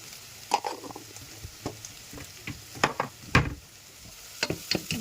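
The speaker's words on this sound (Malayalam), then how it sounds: "ഇളക്കി മിക്സ് ചെയ്യാം." A spoon scrapes and stirs turmeric and other spices into sizzling Kerala-style chicken curry, with irregular clinks and strokes over a soft steady frying hiss, close by and with no talk.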